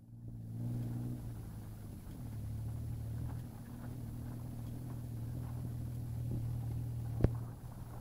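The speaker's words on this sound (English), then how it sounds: "He's just out ripping his truck around." Pickup truck engine rumbling and revving nearby, a steady low drone rising and falling across the clip in open hillside surroundings, with one sharp knock near the end.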